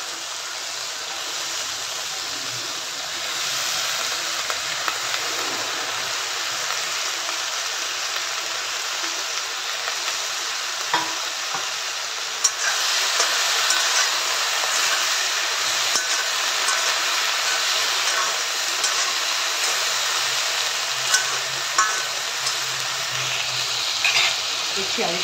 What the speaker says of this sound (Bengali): টমেটোটা মোটামুটি হয়ে এসছে, এই অবস্থায় আমি ভেন্ডিগুলোকে দিয়ে দিলাম।